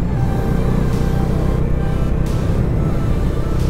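A Bajaj Dominar 250 BS6 motorcycle engine pulls steadily while being ridden on the road, a continuous loud low drone mixed with wind rush that holds even throughout.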